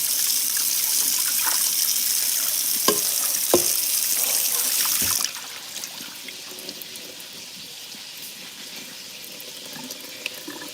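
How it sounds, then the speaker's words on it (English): Rice being rinsed under a running kitchen tap at the sink while cooking brown stew chicken: a steady gush of water fills the first half with a few sharp clunks, then stops, leaving quieter drips and handling noise. "We're just gonna give it one more rinse and we're done."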